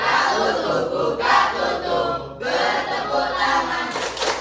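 A group of children clapping along to an action song, rhythmic bursts of hand claps mixed with singing voices, close and fairly loud, rising in speed.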